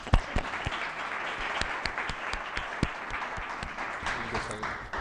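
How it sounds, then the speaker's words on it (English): Applause from a small gathering at a live-streamed event, a few sharp individual claps standing out over a moderate, even patter of hands lasting about five seconds. "Let's give them applause."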